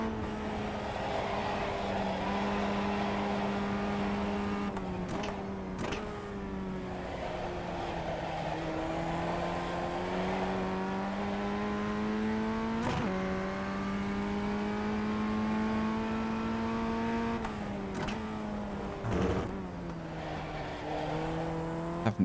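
A racing car's engine screams steadily at high revs on a track, the pitch dipping and climbing through gear changes and braking, with brief tyre squeals, loud and continuous from an onboard position.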